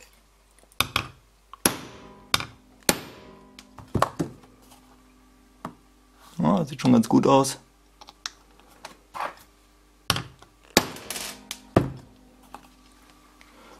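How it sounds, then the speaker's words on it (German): Sharp metallic hammer blows on a hole punch strike in an irregular series, with a brief burst of rapid taps midway; a voice speaks briefly near the end. "Einen kräftigen Hammer, nicht allzu doll drauf."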